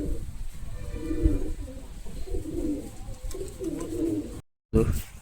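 Pigeons coo in low, repeated rolling calls at a pigeon sale in Dharwad, close and steady for several seconds before a brief cutout, with light background noise.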